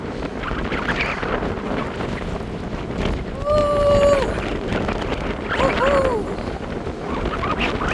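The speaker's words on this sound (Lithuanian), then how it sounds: "Šėlstanti jūra." A stormy sea at a beach town on the Baltic coast, where surf roars and strong wind buffets the microphone without letup, and a few faint whistling tones rise above the steady rush.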